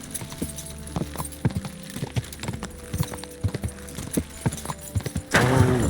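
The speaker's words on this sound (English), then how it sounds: "Whoa, what a beautiful horse." Horse hooves clip-clopping in Kingdom Come Deliverance II: a steady, fairly close run of sharp clops at an even walking or trotting pace, ending with a brief louder rush of sound.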